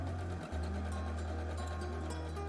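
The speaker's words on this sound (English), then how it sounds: "So you now sew along the seam, but having the right sides together." A sewing machine stitches along a fabric seam with a steady, close mechanical hum and a brief hitch near the start before it runs on evenly.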